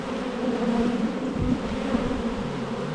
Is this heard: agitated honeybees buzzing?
yes